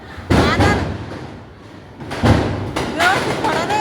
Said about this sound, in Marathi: पोरं तिकडून आले इकडं फटाके उडवायला